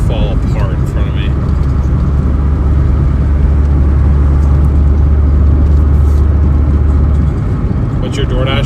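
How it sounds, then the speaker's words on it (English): An old truck engine rumbles and rattles steadily nearby, a loud, continuous low drone with a rough, loose edge, under occasional faint voices. "this truck sounds like it's about to fall apart in front of me"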